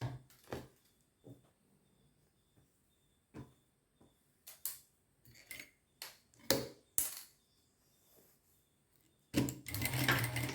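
A sewing machine stitches a fabric piece in short, separate bursts with light clicks between them, quiet and close, ending in a longer continuous run.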